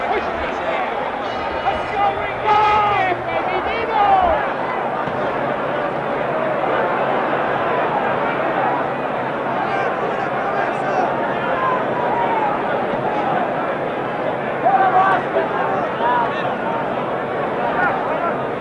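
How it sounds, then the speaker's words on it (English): Boxing arena crowd at a Muhammad Ali fight roaring and buzzing in a steady, loud hubbub of cheers and babble, with a commentator speaking over it. "Now we're back to live action, and this crowd has come alive."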